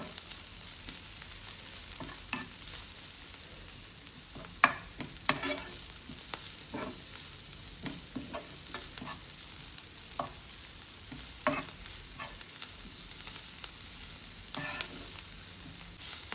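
Salted onions fry softly in a pan, a steady faint sizzle broken by scattered light scrapes and clicks of a spoon stirring, close and unaccompanied by voices.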